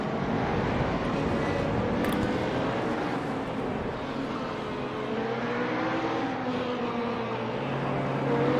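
Radical sports-prototype race cars roar past at Watkins Glen during a sprint race, their high-revving engines droning loudly and continuously with shifting pitch as they pass and pull away.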